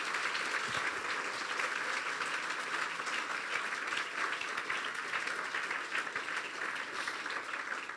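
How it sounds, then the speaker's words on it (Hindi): A church congregation applauds during a sermon, a steady, even wash of many hands clapping that holds without a break for about eight seconds. "फिर तालियां बजा दें यीशु के लिए।"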